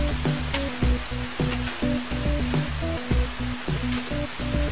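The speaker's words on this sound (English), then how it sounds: "looking out here at this rain" Rain falls steadily on outdoor land, a constant hiss with scattered sharp drops and a repeating low thumping pattern underneath, no voices present.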